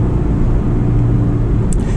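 Loud, steady low drone and road rumble inside a Honda S2000 cabin while driving, continuous and boomy with no talking.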